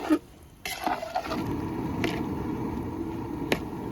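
Lemon and dried lime are stirred in a simmering pot of Arabian chicken kabsa, a faint, steady bubbling hiss with a few light clinks of the spoon against the pot.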